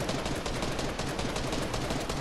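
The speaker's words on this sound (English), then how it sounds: "So now he's just trying to shoot me out a bit." Rapid bursts of gunfire from an enemy player in the Fortnite video game, a dense rattling stream of shots close and loud, continuous for a couple of seconds.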